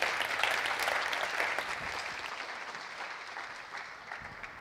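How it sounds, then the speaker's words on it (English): An audience at an energy-sector talk applauds a speaker with a full round of clapping, loudest at first and then gradually thinning and fading over several seconds. "Give him a round of applause."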